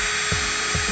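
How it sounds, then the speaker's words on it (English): MelodySusie electric nail drill running, a steady high-pitched motor whine with two brief low thumps, close and alone. "I feel like it's about the same noise level as any other drill that I've used"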